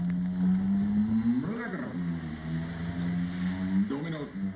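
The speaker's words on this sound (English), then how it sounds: "A human engine sound has been installed on these silent electrical scooters" Silent electric scooters fitted with a human-voiced engine sound give a steady humming drone that twice swells upward like revving, with someone talking over it.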